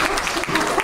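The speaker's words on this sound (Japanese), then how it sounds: "はい、拍手でございますね。" Applause from an audience at an outdoor station-front music festival after a taiko drum performance, dense and steady clapping filling the short moment, fairly loud with no clear voices.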